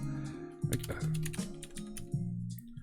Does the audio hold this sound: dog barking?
no